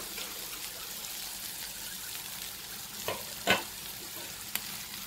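Stuffed okra fries in a covered pan, giving a continuous soft sizzle and hiss broken by a few sharp clinks and scrapes near the end, with no one talking.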